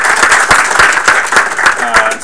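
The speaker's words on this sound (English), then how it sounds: "please give a round of applause." An audience at a spring 2016 celebration breaks into sustained, dense applause with steady rhythmic clapping close by, and voices carry faintly underneath.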